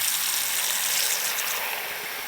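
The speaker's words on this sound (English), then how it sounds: "I'm going to fill the water up." Tap water runs steadily into a bathroom sink sealed with a plug, a continuous close hiss of pouring, filling water with no voices.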